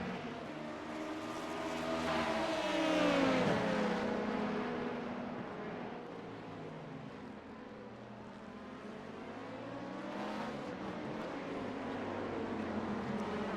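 Simulated IMSA race cars in iRacing, LMP2 prototypes alongside a GTP Cadillac, drone past with rising and falling engine pitch; a loud pass-by comes near the four-second mark and another lighter surge follows later, with no talking.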